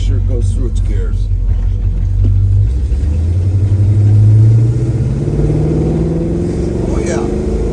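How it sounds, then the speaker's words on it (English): A 1971 Chevrolet Chevelle engine pulls hard through its gears, its rising drone climbing steadily and dropping as each shift comes, loud and close throughout, with a slight exhaust leak noted on this car. "Let's make sure it goes through its gears."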